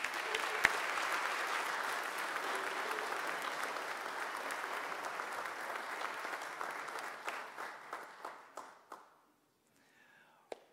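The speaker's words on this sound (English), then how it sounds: "Will you applaud their accomplishment?" Congregation applauding at a Sunday church service, a sustained wash of clapping that thins into scattered individual claps and fades out near the end.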